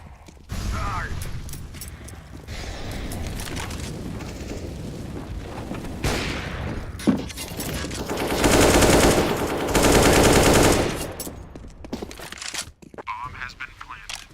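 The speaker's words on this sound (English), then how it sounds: "I'm throwing a grenade!" Gunfire and grenade blasts in a CS:GO professional match, a dense mix of rapid shots and mechanical clatter with two sustained roaring bursts in the middle, while players shout in the background.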